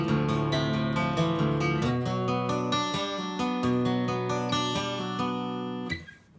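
An acoustic guitar plays a flowing riff, picked notes and strummed chords, steady and clear, ringing out and fading at the end.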